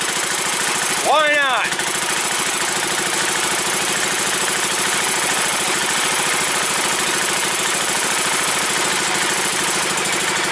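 Early Kohler K series engine that needs a new carburetor idles with a steady, even chugging throughout, close and loud, while a voice speaks briefly near the start.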